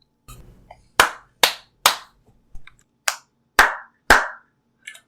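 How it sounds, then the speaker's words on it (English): Several people clap in a podcast session, giving about seven sharp, separate handclaps spaced irregularly over a few seconds with quiet gaps between them, no talking. "y'all didn't actually need to clap there"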